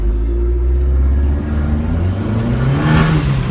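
Abarth 595 engine revving up through the range, a loud, close, steady growl rising in pitch, with a sharp exhaust crackle near the end and no talking.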